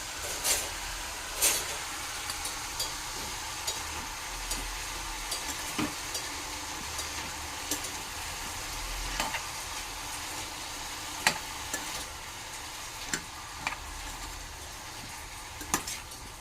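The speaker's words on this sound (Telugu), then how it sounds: "సో ఎంతవరకు ఫ్రై అయినాయో వంకాయని చూసేద్దాము." Salted eggplant frying in a pan and being stirred, a steady low sizzle broken by occasional scrapes and knocks of the spoon against the pan, close.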